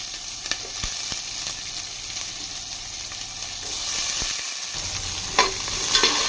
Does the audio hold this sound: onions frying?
yes